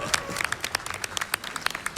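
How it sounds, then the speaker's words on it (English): A short burst of audience applause, many hands clapping in a dense, irregular patter with a crowd feel. "audience, can I please get a round of applause?"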